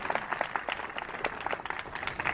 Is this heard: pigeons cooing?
no